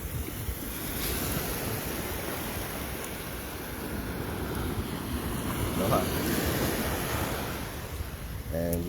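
Ocean surf washing steadily onto a Maui shore, a continuous broad roar with gusts of wind buffeting the microphone throughout, and a brief voice near the end.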